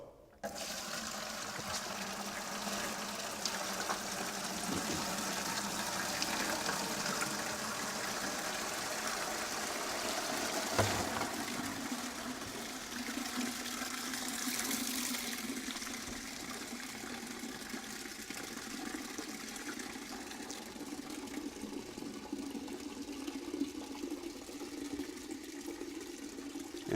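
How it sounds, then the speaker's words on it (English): Five gallons of water pour steadily into a drainage bucket with a continuous rushing, gurgling wash that holds for almost half a minute, close and loud, with no talk. "We're going to dump 5 gallons of water into this bucket."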